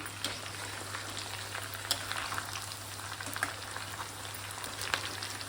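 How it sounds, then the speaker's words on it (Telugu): Green chillies sizzle and fry steadily in hot oil in a pan while chicken pickle is being made, a continuous crackling spatter close by with no talking. "ఇప్పుడు వేగుతున్నాయి కదా, ఇవి పచ్చిమిరపకాయలు"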